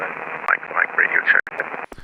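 A simulated aircraft radio transmission on the VATSIM flight network comes through degraded with distance, a band-limited, crackly voice with brief dropouts and a burst of static at the end.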